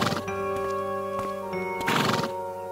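A horse neighs and whinnies in a close, loud call lasting a few seconds, with brief hoof clatter and a bright harmonic cry, as an animated fairy tale of the bell of Atri plays.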